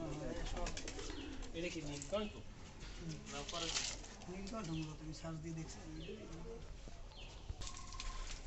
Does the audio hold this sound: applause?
no